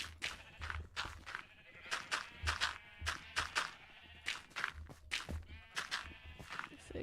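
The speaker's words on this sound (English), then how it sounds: "I might have lost a few sheep there" Sheep in the Assassin's Creed Odyssey game world bleat repeatedly, several wavering calls overlapping in an irregular rhythm, fairly close and clear, with no talk over them.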